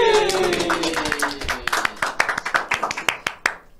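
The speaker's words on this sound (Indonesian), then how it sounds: "Yuk semua tepuk tangan" Clapping on a TVRI comedy stage show, starting as a dense burst over a lingering voice, then thinning into sparse, sharp individual claps toward the end.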